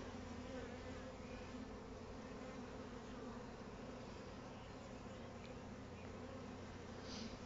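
Honey bees drone steadily around a small nucleus hive holding wax-coated frames, a dense, continuous buzz with no breaks, faint and evenly sustained throughout.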